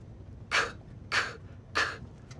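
A mouth imitates a snare drum with three sharp, breathy beatbox hits spaced evenly, close and fairly soft, with no speech between them.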